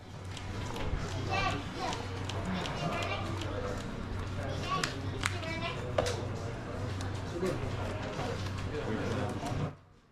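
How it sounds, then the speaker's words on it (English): Young children chatter and play in the background at a card game tournament, their voices blending into a continuous busy murmur with occasional footsteps and knocks. "Sounds like a little kids talking in the background."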